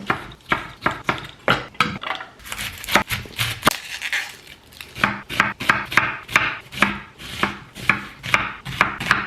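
Jalapenos being chopped give a quick, regular run of sharp knife thuds on a cutting board. The strokes are close, with a brief irregular stretch midway.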